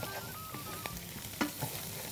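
Two cloves of minced garlic fry with coriander in Egyptian ghee for the tasha topping of a taro and meat dish, a steady close sizzle with a few soft stirring knocks and no talking.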